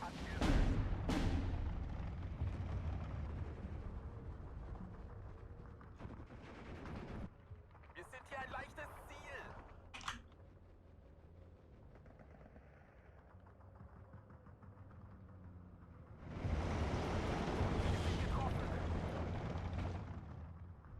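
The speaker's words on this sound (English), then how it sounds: "Mortars on the right doing fine work." Mortar fire in the World War II strategy game Steel Division 2 booms and rumbles through a dense battle soundscape. Heavy bursts of explosions open and close the stretch, with quieter crackling in between.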